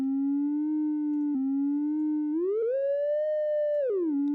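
A synthesizer key sustains a steady tone, then glides smoothly up in pitch with portamento, holds with subtle modulation, and slides back down; one close, clean note with no talking.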